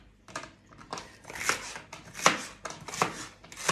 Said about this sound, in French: Je coupe juste grossièrement.